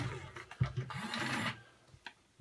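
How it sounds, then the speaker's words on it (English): A fairly powerful motor in a BB-8 or R2-D2 toy droid whirs briefly up close, a short buzzing run with a few knocks around it. "So the trouble is, that's quite a powerful motor on there."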